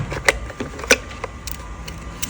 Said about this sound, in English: you can actually hear a clicking sound